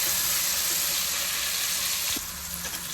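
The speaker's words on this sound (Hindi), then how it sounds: "लहसुन को प्याज के साथ थोड़ा सा भूनें।" Garlic, onion and green chilli fry in a pan with a dense, continuous sizzling hiss that eases slightly toward the end, with no voices.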